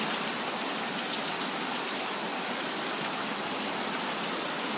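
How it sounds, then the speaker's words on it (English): Steady rain falls on surfaces outside a country house during a storm, a close, even hiss with no voices. "But it's raining."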